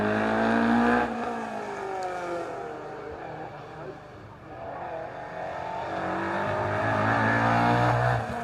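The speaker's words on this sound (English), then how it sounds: "Car 61, the Mark II Escort, sounds like it's dropped a cylinder, doesn't sound right." A Mark II Escort rally car at a Scottish rally stage runs rough with a dropped cylinder, its uneven engine note rising and falling as it passes, with a commentator's voice speaking over it.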